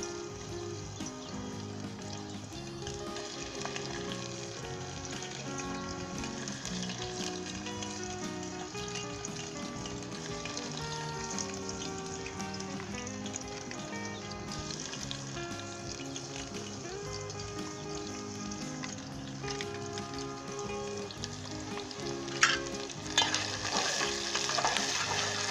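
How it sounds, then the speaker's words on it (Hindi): Onion, ginger and garlic fry in oil in a pan for an arbi and green chilli curry, making a continuous soft sizzle broken by the stir of a spoon, with a few louder scrapes near the end. "लहसुन डालेंगे। उसे 2 से 3 मिनट तक हम फ्राई करेंगे"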